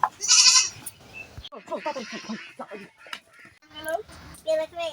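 A goat bleats loudly and close at the start, then people talk on and off, with further short bleat-like calls near the end.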